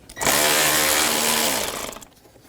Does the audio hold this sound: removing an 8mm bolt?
yes